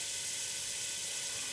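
Butter sizzles in a very hot pan, a steady, dense hiss that holds evenly throughout, close up, with no talking.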